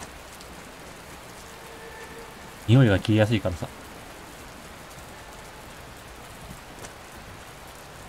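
Continuous soft hiss of rainfall in the horror video game 2Dark, an even wash of noise throughout, briefly interrupted by a short spoken phrase.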